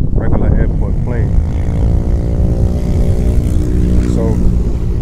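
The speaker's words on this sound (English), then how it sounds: "And that one is just like, you know, regular airport plane." A fixed-wing propeller airplane passes overhead near LaGuardia Airport in New York, its steady engine drone loud and continuous, with people speaking over it.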